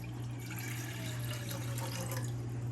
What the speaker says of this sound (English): I'm gonna fill it up with about 12 ounces of water